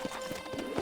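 Horse hooves clip-clop steadily on the ground in the Red Dead Redemption video game, a rhythmic series of soft thuds over constant background ambience.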